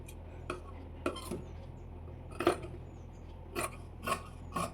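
Scissors cut along the markings of blouse fabric in a handful of short crisp snips, some paired in quick succession and separated by pauses, close up over a quiet low hum.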